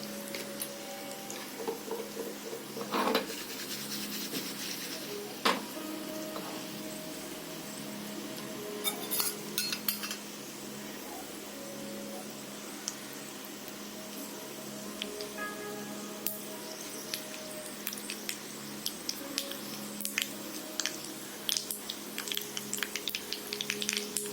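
Asafoetida tempering for majjige huli, a curd-based curry, sizzles steadily in hot oil with small stirring clinks, continuous and close with no talk.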